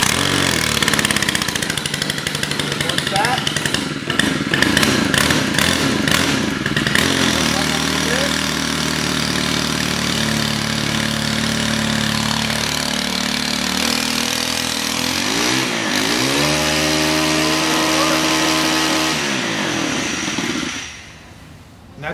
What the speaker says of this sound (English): So here he's starting up the edger on the ground.